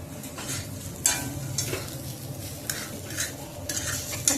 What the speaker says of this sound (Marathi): इथे मी आता हे सर्व मिश्रण आहे ते मिक्स करून घेतलेलं आहे.